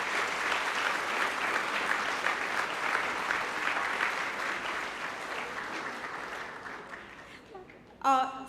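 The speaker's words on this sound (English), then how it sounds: "Please give them a big round of applause." A big round of applause for student volunteers at a university orientation programme, dense steady clapping from a large audience that gradually fades before a voice speaks at the end.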